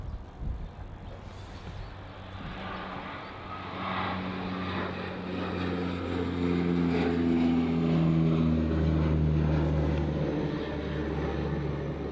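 An airliner takes off down runway 16 at Melbourne Airport, its jet roar building from a distant rumble to a steady, louder drone as it rolls and climbs, with no talk.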